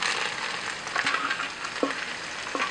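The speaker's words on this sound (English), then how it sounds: "I'm going to put these Brussels sprouts in oil." Brussels sprouts frying in hot oil, a steady close sizzling hiss with a few soft clicks and taps from the pan throughout.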